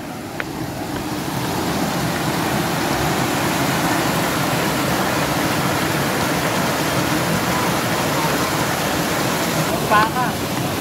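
Talon Pare Falls at DRT, Bulacan roars nearby as a loud, steady rush of falling water, with a brief voice near the end.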